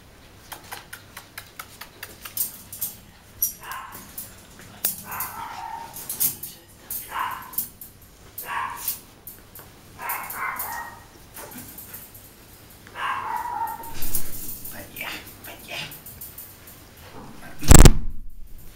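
A female dog barks and whimpers close by in a warm setting, with short yips and whines scattered through the clip under occasional quiet talk, ending in a sharp loud burst.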